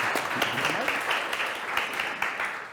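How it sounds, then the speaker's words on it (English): An audience claps, a moderate patter of many hands with scattered sharper claps, steady throughout with a voice faintly present. "a big applause"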